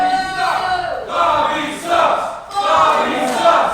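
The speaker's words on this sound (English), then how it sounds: "And the crowd giving it to Bobby Orlando right now." A wrestling crowd jeering at a wrestler during a pole match: loud, sustained group shouting and booing in swelling waves, close and filling the space, with no clear individual voice standing out.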